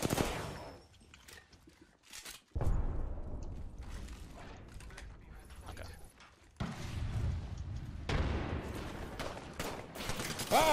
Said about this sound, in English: they're both using shotguns